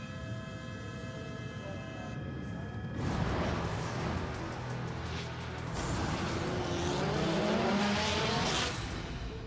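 A BMW M4 DTM race car on the Nürburgring sprint circuit rises to a loud, broad roar after a quiet start, holding steady like a car passing close by at racing speed, with no talk.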